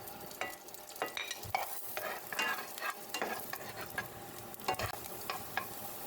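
Chopped ginger sizzles and crackles in hot oil left from frying fish for ginataang tilapia, with steady close frying noise and scattered pops and stirring scrapes throughout, no voices.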